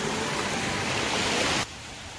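Water rushes over the first falls at Amaithi Solai in a steady, dense roar that stops abruptly near the end of the short stretch, with no voices.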